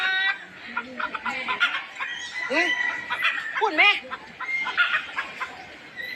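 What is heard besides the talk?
chickens clucking at a zoo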